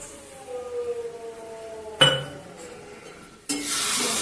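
Cornflour is stirred into chili chicken in a pan. There is a faint soft sizzle, a sharp clink of a utensil against the pan, then a louder, steady frying hiss and stirring.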